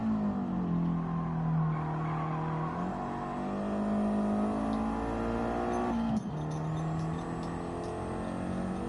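A race car engine in the Gran Turismo 7 video game revs and holds high pitch, then shifts at about three and six seconds. The engine drone runs continuously and loud, with no voices.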